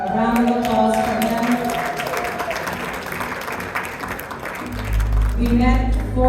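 A crowd at a fundraising gala claps in steady, sustained applause that fills the room, while a speaker talks over the clapping.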